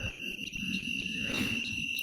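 Crickets in the woods give a steady, faint, high continuous chirring with a soft background hum and no voices.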